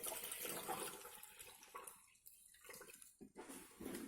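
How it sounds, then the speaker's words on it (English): Running water pours into a container to make a sodium hydroxide solution, a steady broadband rush that dips briefly midway before resuming, close and soft. "fill that with water"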